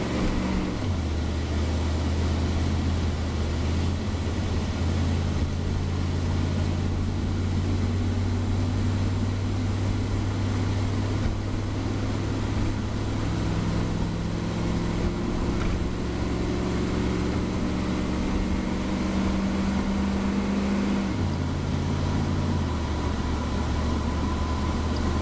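Wood-gas powered Dodge Dakota truck under steady throttle, a continuous loud engine drone with shifting tones as it holds on the gas, wind and road rumble filling the background throughout.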